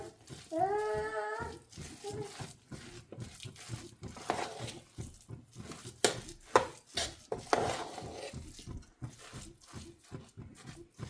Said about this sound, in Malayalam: ഇനി നന്നായി ഒന്ന് ഇളക്കി കൊടുക്കാം.